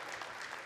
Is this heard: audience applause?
yes